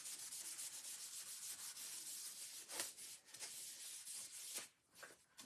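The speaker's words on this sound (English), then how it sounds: "we're going to use one side to put the wax on and the other side to just kind of buff it a little bit" Wax is rubbed and buffed by hand onto a paper stencil for a Valentine's Day craft, a close, soft, continuous scratchy rubbing with a few brief louder strokes and short pauses.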